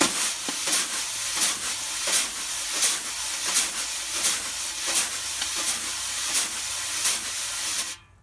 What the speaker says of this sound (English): So just for a comparison, I'll stir on this head so we can hear what it sounds like.